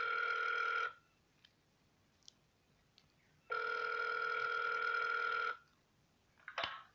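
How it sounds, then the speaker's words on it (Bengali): A telephone rings in a winter-evening audio murder-mystery drama: two long, loud, close ring bursts separated by a few seconds of quiet, followed by a short faint click. "কফি শেষ করেছি সেই সময় টেলিফোন বাজল।"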